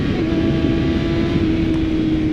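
A 2019 Kawasaki Ninja ZX-6R on a street ride gives a loud, steady engine drone with a strong sustained tone, held close throughout with no clear rise in pitch.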